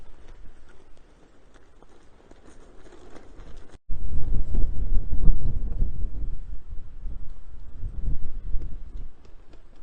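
Strong wind buffets the microphone in a continuous low roar, growing heavier and gustier after a brief dropout partway through.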